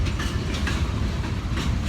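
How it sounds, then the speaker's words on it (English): Norfolk Southern freight train rolling past on the rails, a steady close rumble with rhythmic clickety-clack of the wheels throughout, with no voices. "Got a big train with him today."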